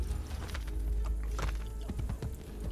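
Horse hooves in Assassin's Creed Brotherhood, a steady clip-clop of trotting over a low rumbling background, close and continuous.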